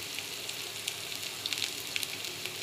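Asafoetida sizzles in hot oil in a pan with golden brown garlic, a steady soft frying crackle with small pops scattered throughout, fairly close and quiet.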